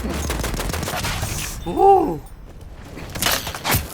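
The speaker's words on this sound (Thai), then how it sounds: "ปืน M1903 Hammerless นี่คือสุดยอดปืนที่เน้นยิงสแปมเป็นหลัก" An M1903 Hammerless pistol fires in a video game: rapid, loud shots come close together, then a ringing tone, a quiet gap and more shots near the end.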